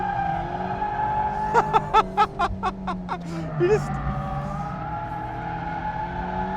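A Mazda MX-5 GT RS driven on a racetrack on a sunny day, with a steady engine drone and a burst of rapid pulsing sounds midway, a voice present over the car noise.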